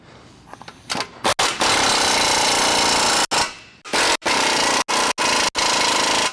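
Ford F150 ball joint nuts being driven with a 21mm socket on an impact tool, loud close bursts of rapid hammering rattle separated by short pauses, alone without talk.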